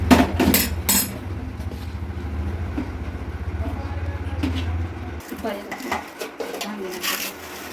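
A spoon clinks and scrapes in a bowl while a jaggery churma ladoo mixture is stirred. Quick metallic taps come first, then steady rhythmic scraping, with a low hum that stops partway through and a voice speaking throughout.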